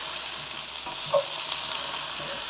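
Okra frying in a pan for bhindi masala gives a steady, close sizzle, with one brief clink of stirring partway through and no talking.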